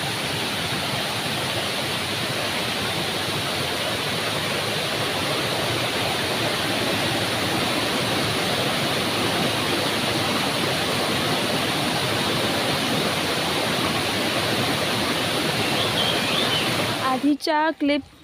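Water rushes down into a stream in a Konkan village, a loud, dense, unbroken roar lasting throughout, with a few brief knocks right at the end.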